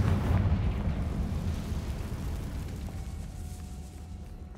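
A Confringo spell blast in Hogwarts Legacy lands as a deep, rumbling explosion that opens loudly and gradually fades into a low, lingering roar, no talking.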